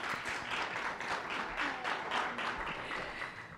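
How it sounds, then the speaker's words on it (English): A school summit audience gives rounds of applause for student leaders, fairly faint clapping in gentle waves that rises and falls. "we're going to give them rounds of applause"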